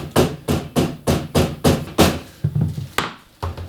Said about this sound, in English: This is probably where they say to have a rubber hammer. Just tap it in there.